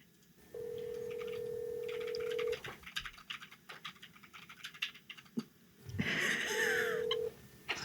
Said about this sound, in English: All right, we're dialing.